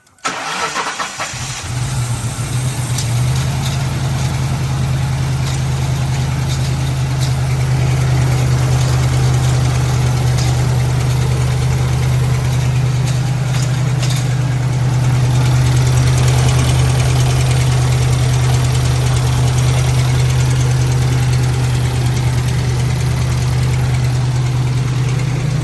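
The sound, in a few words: Lincoln Town Car engine running and knocking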